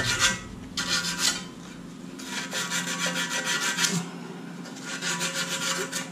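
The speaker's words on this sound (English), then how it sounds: "so I'm going to sand that, because if I damage the shaft doing that, it ain't going to come off" Sandpaper worked back and forth over the metal shaft of an A.C. fan motor while removing the fan blade, a steady close rasping scrape in repeated strokes with brief pauses between them.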